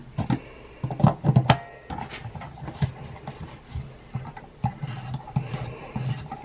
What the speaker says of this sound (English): You're really honing that edge here with this one.